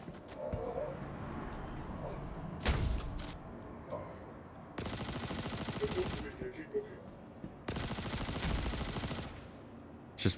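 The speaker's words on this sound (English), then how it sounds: "Just freaking gunfire all around me, though." Gunfire erupts in Star Citizen during a mission against Nine Tails gang members: several loud bursts of rapid automatic shots, each lasting a second or two, separated by quieter stretches of ambient game noise.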